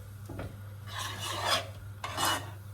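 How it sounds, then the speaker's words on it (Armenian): A ladle scraping across a frying pan, two or three rasping strokes close by over a low steady hum, no voices. "այս տապակս գթալից չի փչանալու"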